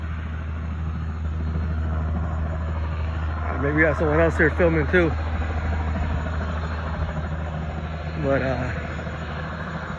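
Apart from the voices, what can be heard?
airplane taking off nearby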